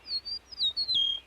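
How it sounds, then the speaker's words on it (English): A meadowlark calls from nearby, a series of clear, thin whistled notes in short phrases over near silence. "That sound is the call of another meadowlark nearby."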